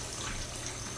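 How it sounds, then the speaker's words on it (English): A slow stream of water runs from a sink spout into a funnel assembly, a steady close hiss and trickle with no voices. "I'm going to run a slow stream of water,"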